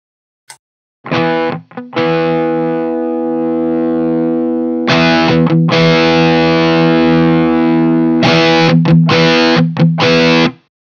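A heavily overdriven electric guitar, boosted into an OCD overdrive pedal, rings out in thick sustained chords, with short stabs and pauses between bursts, loud and close.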